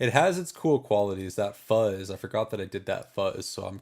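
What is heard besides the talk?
None of the usual background noises is heard.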